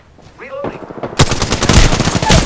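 Rapid automatic gunfire in a video game bursts in after about a second and keeps up as a dense, loud, continuous rattle, with a voice talking briefly just before it starts.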